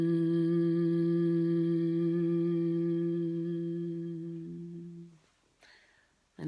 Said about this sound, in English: And then just breathing out with a hum.